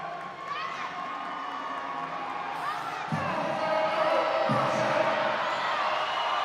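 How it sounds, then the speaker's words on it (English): Spectators cheer and shout at the Arnold Strongman Classic as a female athlete struggles with a heavy implement, a steady crowd roar that swells louder partway through, with a couple of dull thuds and a commentator talking over it. "Crowd getting behind Walcott."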